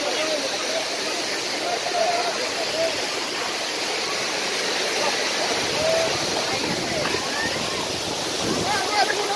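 Bungdol waterfall near Hetauda, Nepal, roars in a constant broadband rush of falling water, loud and unbroken, with faint voices and occasional brief calls above the steady noise.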